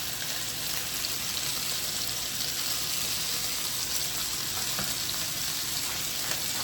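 Seasoned chicken tenders fry in a pan with a steady, dense crackling sizzle that holds close and even throughout, with a few sharper pops and no voices.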